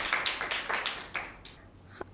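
Audience clapping for team B at a school Bible quiz, a short scattered burst of claps that thins out and fades within a couple of seconds, with a last stray clap near the end.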